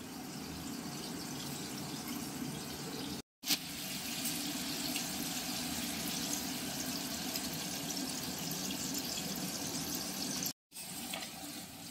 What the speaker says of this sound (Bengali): মধ্যে এবার দিয়ে দেবো ডিমগুলো, যেগুলো হালকা হালকা চিড়ে চিড়ে নিয়েছি, এটাও ভেজে নেব।